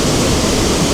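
A waterfall at Glen Etive, below the Buachaille, pours in a steady, loud, broadband rush of falling water, continuous and unbroken throughout.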